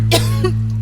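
One short dry cough, close and sharp, with a steady low electrical hum underneath.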